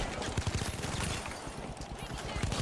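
Minigun fire in a video game: a rapid, continuous stream of gunshots rattles on for several seconds at a moderate level, with the bursts pulsing in quick succession.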